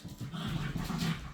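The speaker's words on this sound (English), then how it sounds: "I'm having to shout over the puppies" Several young dogs, puppies now growing older, whimper and pant close by in a steady, restless stream of soft whines and breathy huffs, with no voices.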